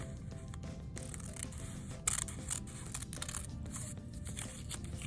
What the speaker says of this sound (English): I'm going to cut the corners as well